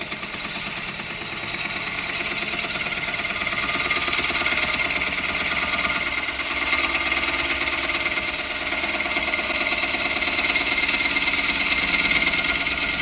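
A bowl gouge cuts wood on a spinning lathe, producing a steady, continuous rushing hiss over a low motor hum that swells slightly partway through, with no talking.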